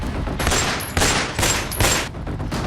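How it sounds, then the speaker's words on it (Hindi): Indiscriminate gunfire in Bihar, heard as rapid bursts of loud, sharp shots in quick clusters over about three seconds with no speech. "बेखौफ बदमाश, अंधाधुंध फायरिंग"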